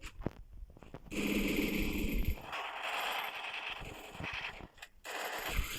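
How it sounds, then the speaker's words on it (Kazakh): Gunfire in an online shooter game, with rapid automatic bursts and dense crackling shots running almost continuously and loud, mixed with game mechanism clicks. "аяқта атыс бастап кетті"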